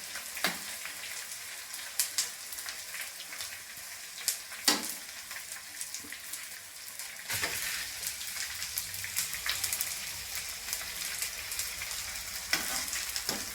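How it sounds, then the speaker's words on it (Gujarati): Edible gum pieces frying in hot ghee give a steady close sizzle and crackle, with a few sharper pops and stirring scrapes, growing louder and denser partway through. "હવે ઘી થઈ ગયું છે એટલે આમ છૂટો છૂટો એમાં ગુંદ નાખીને તળી લેશું"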